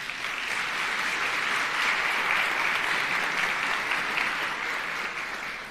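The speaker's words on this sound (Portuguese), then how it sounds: "Uma salva de palmas para o Davi." A large seated audience at a motivational talk breaks into sustained, dense applause, a loud even roar of clapping that holds for several seconds without speech.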